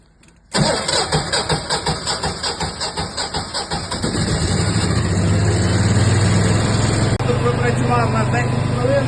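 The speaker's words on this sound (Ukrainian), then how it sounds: "І запускаємо е, генератор в ручному режимі." A Pramac GA-series generator is started in manual mode. The engine catches abruptly and chugs unevenly for a few seconds, then settles into a loud, steady, close running drone that continues to the end.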